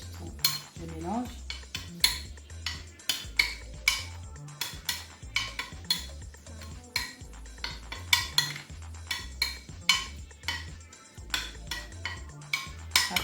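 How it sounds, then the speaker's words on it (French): A spoon clinks steadily against a glass or bowl while lemon juice is stirred into a homemade remedy mixture, the rapid metallic taps coming close and clear in an even rhythm with no voices. "Le jus de citron, je mélange."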